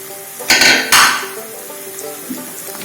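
Cooked chicken goes into a pan of roasted-spice curry gravy with two sharp clatters of cookware close by, followed by a low, steady sizzle and a faint scrape, with no voices.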